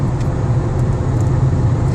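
A car with a 1.4 TSI 122 hp CAXA engine accelerates under power, suffering from low turbo boost: a loud, steady, low engine drone holds throughout, close to the listener.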